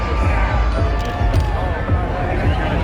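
An outdoor crowd at a Red Bull Flugtag event in St Paul gets fired up, and its cheering and babble form a dense, close wash of noise under a voice talking.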